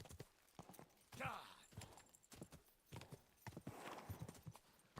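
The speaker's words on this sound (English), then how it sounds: "I hope this horse is actually here." Horse hooves clip-clop in the medieval role-playing game Kingdom Come: Deliverance, a steady run of hoof strikes at moderate distance with a player's voice heard over them.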